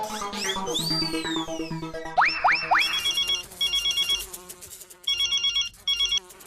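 A telephone ringtone plays while calling an inspector: a melodic electronic tune with rising sweeps, then repeated bursts of bright ringing in regular pulses, fairly clear and alone.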